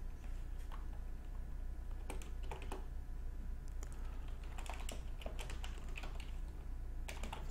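Quiet clicking of a computer keyboard as code is typed, scattered bursts of keystrokes with pauses over a steady low hum, no talking.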